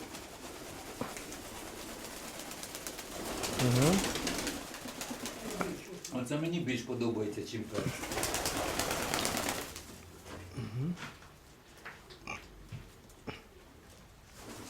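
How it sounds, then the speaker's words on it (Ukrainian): Pigeons coo softly in a dovecote in a few low, rounded calls, close by beneath a steady background hum, while people talk nearby. "І тут голуби."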